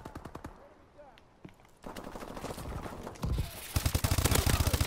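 Video game gunfire, bursts of rapid automatic shots that start sparse and faint and grow louder and denser toward the end, with a voice briefly audible in between.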